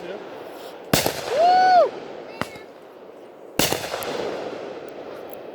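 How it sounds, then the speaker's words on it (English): Firework bursts at an outdoor show: two sharp loud bangs with crackling decay, a rising whistle in between, and a person whooping and talking around them. "That's firework."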